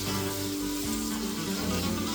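Onions sweat in butter and bacon fat in a pan, giving a steady, close, fairly loud sizzle that hisses on without a break through the short stretch.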